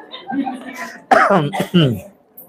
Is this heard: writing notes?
no